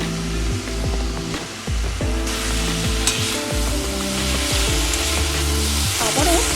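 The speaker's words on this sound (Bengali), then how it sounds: "সুন্দর করে আমি এটা ভেজে নেব" Loud, continuous sizzling of red lentil fritters frying in a pan, with scraping stirs and occasional clinks, no talking.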